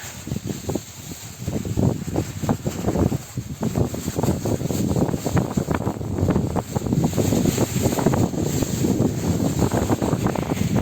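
Wind blows steadily and gustily across the microphone in an orchard, a rough rumbling rush that continues throughout with no speech.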